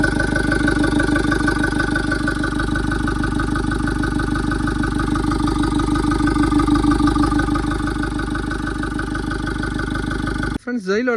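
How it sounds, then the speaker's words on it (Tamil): A Mahindra Xylo E4 diesel engine idles with a steady, loud, even ticking of tappet noise throughout, then cuts off abruptly near the end. "இந்த டேப்பட்டோட நாய்ஸ் தான் இருக்குது."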